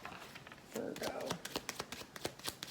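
Tarot cards being shuffled up close: a soft riffle followed by a quick series of crisp snaps and taps.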